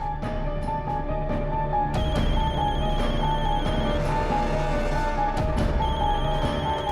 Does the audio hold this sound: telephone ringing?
yes